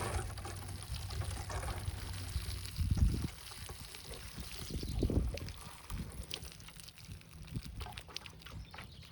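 Water pours from a hose or can into a potted blue spruce being prepared for market, a steady splashing trickle with two heavier gushing swells, close and alone.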